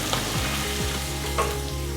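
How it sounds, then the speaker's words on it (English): Steady, close sizzling and crackling of chopped king prawns frying in a pan for a chilli karahi curry, with occasional soft scrapes of stirring. "That's the sort of level of sizzle we want."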